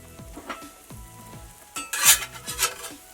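Croissant French toast with maple and pecan frying in a pan, a soft continuous sizzle broken by repeated spatula scrapes and a few louder hissing bursts near the end, no talking.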